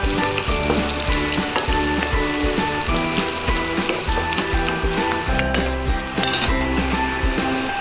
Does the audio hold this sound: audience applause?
no